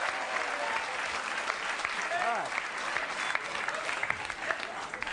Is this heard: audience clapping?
yes